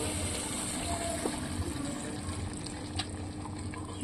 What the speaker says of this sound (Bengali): হালকা একটু জল দেবো